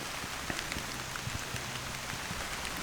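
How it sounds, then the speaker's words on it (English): Steady rain falls outdoors around a person sheltering under a giant sunflower, a dense even patter of drops on leaves and surfaces with occasional louder close drips, continuous and moderately loud throughout with no talking. "I'm getting some protection from the rain"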